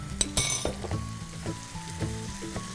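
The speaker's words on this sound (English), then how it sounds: "Now I'm going to mix this in and let this cook until the tomatoes turn pulpy." Onions, tomatoes and spices sizzle in a pan with a steady frying hiss, and a utensil stirs and knocks against the pan a few times close by.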